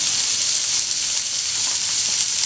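Food roasting in a little oil on a pan gives a loud, steady, close-up hiss and crackle with no pauses and no voices.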